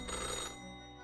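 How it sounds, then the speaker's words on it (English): An old-fashioned telephone bell rings steadily in an office in a narrated story, a bright metallic jangle that fades into a lingering tone, faint and alone. "The old-fashioned phone rings right as you settle in."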